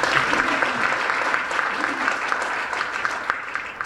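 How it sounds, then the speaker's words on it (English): An audience at a public forum breaks into steady applause, dense clapping with a few sharper claps standing out, and some voices underneath. "So that itself deserves a round of applause"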